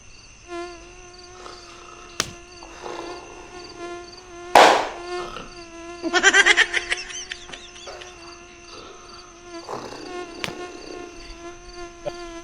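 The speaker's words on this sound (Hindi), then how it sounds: "ऐसे मच्छरों में तो नींद भी ना आ रही, तमाम काटे जा रहे हैं।" Mosquitoes buzzing at night around people trying to sleep, a thin steady insect whine running through the scene with a few brief louder passes and bursts close by.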